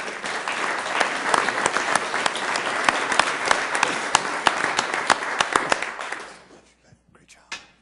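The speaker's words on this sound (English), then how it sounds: "just a round of applause" A council meeting audience gives a loud, sustained round of applause with sharp individual claps standing out, ending abruptly around six seconds, followed by a few scattered claps and brief sounds.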